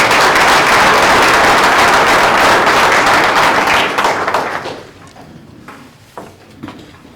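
An audience at a Board of Education meeting gives a loud round of applause for student athletes, dense clapping that holds steady for about four seconds, then thins out and fades to a few scattered claps.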